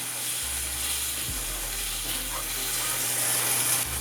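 Spinach wilting in a pan of vegan Alfredo sauce gives a steady, moderate sizzle and hiss that runs the whole time, with a brief stir-like scrape partway through and no talking.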